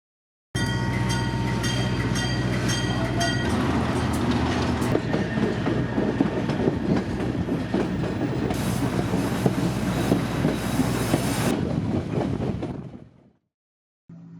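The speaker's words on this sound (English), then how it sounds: "This is also where our train ride stops" A mountain train rumbles steadily along the rails near Skagway, Alaska, with rhythmic clickety-clack and metallic squeals, loud and continuous before fading away near the end.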